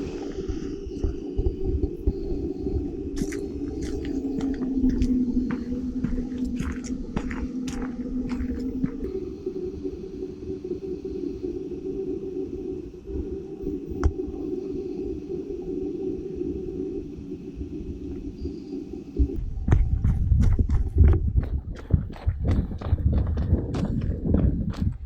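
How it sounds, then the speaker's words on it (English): Low, steady motor whine from a Hohem iSteady Pro handheld gimbal carrying a GoPro, running continuously for about twenty seconds with soft handling knocks and bumps, growing rougher and louder near the end. "there is some motor noise, and that's normal for this type of gimbals"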